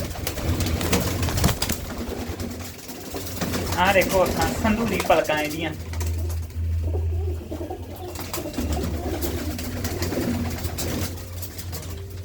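Pigeons kept at home coo softly through someone speaking in Punjabi, their low murmuring rising briefly around the middle and otherwise staying under his voice, with a steady background hum.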